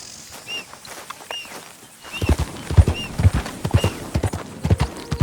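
Horse hooves clip-clopping in the Red Dead Redemption 2 video game, a steady walking rhythm of hoof strikes that grows louder and closer partway through, with a faint chirpy tone above.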